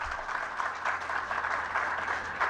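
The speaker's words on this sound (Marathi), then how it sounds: "त्यांनी त्यांच्यासाठी टाळ्या वाजवाव्या" An audience at a Marathi and English talk on Buddhism and wellbeing claps for someone, a steady, fairly soft round of applause heard from a distance with no speech over it.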